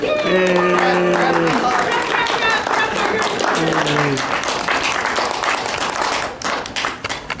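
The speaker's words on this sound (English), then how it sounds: "Everybody clap together at once." An audience at a voice acting panel claps together at once, producing a dense, loud burst of applause with voices exclaiming and singing over it at first, then the clapping carries on alone and thins out near the end.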